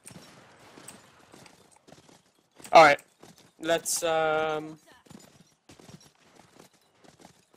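Horse hooves clip-clop in the video game Blood & Iron amid a brief sharp crack and a loud, drawn-out horse cry, with someone talking faintly through much of the scene.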